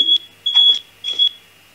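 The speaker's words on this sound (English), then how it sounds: "Sorry, that's my fire alarm going off." Smoke alarm set off by toast, giving a steady high electronic tone with a few short beep bursts over about two seconds, loud and close, with a faint voice at the start.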